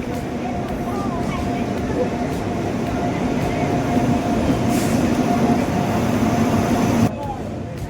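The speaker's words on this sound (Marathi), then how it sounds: "आमची ट्रेन आल्या बघा" A train rumbles steadily alongside a station platform while arriving, a constant heavy roar with a faint high squeal of brakes and an abrupt drop near the end.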